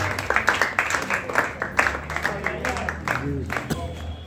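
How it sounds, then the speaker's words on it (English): Clapping at a school farewell party for departing students, scattered and uneven hand claps under overlapping voices and chatter, moderately near. "Please start clapping for Saksham and Viren."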